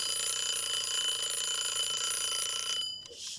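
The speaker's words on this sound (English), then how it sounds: "5 minutes, one act timer. When it rings, the story ends." Act timer ringing with a continuous loud, bright electronic bell tone that cuts off abruptly near the end, leaving a brief quieter tail.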